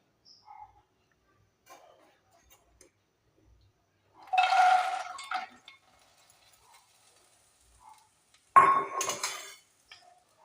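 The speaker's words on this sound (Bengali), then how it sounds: "এর মধ্যে এবারে পদ্মবীজের খই বা মাখানা এটা হালকা করে ভেজে নেব।" Makhana (lotus seed puffs) are lightly fried in hot ghee in a kadai, heard as two separate bursts of stirring and scraping clatter against the pan, with near silence between them.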